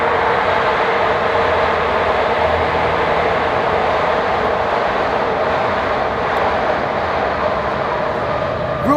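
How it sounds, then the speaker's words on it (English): A train arriving in Kensington, heard as a loud, steady rumbling roar of wheels and engine that fills the whole stretch, close and continuous with no talking over it. "the train is coming"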